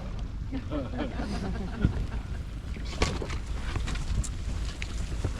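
A small outboard motor on a Zodiac inflatable boat drones steadily in Hill Bay, Antarctica, beneath wind buffeting the microphone, with a person's voice briefly heard over the engine noise.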